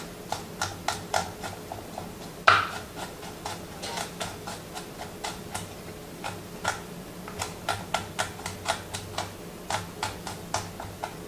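A knife chops a fresh garlic clove finely on a cutting board, making a quick run of sharp, close, evenly spaced taps with brief pauses and no speech.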